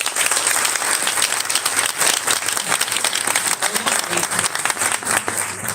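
An audience applauds a speaker at a presentation of legislative proposals, with sustained, dense clapping throughout and voices faintly mixed in.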